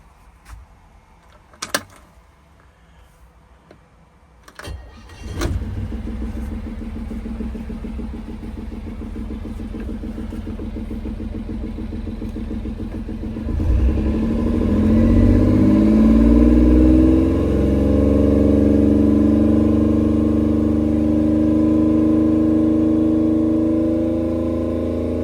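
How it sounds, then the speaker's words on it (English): A boat engine, running smoothly after the fuel tanks were cleared, starts after some clicks, idles steadily, then revs up loudly with rising harmonics and holds a strong drone to the end, with no voices. "the engine runs absolutely lovely"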